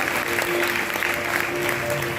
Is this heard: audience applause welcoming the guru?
yes